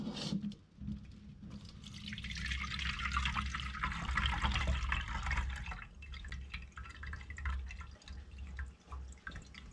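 Water is added to a ragi mixture, which is then strained while making satva, giving a close wet trickle and a rushing pour that swells and fades, with faint dripping and no talking.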